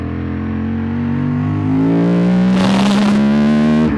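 A 2003 Ducati Monster 916 S4 motorcycle engine revs hard and loud, its pitch climbing in a rising harmonic whine before a rough, distorted blast near the end.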